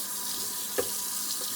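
A kitchen tap runs steadily while pickled cucumbers with green pepper and onion are rinsed and drained, giving a soft, even hiss with a brief splash midway.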